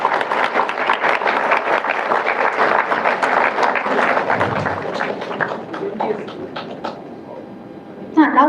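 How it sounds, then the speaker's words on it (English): Applause for MTSE graduates at a 2024 graduation event, a dense ripple of clapping from a crowd that gradually thins out and fades, followed by a brief louder burst at the end. "MTSE graduates, a huge round of applause for all of you."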